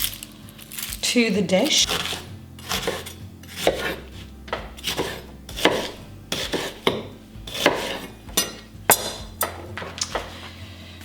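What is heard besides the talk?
knife slicing onions for round steaks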